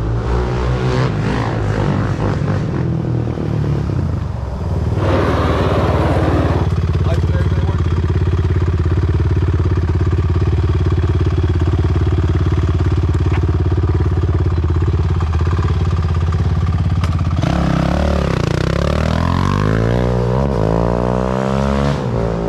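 Honda TRX450R quad engine running close by, a loud steady mid-pitched drone that rises and falls with revving, with people talking over it.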